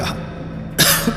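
A single short cough from a man in a tense dramatic scene, followed by a brief throat-clearing burst, close and fairly loud.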